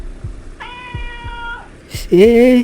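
A cat on a deserted, cold night road lets out two meows, a thin drawn-out cry followed by a louder, lower yowl, over soft rhythmic thumps. A man briefly calls out.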